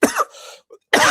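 Two short harsh coughs, loud and close, separated by a brief pause.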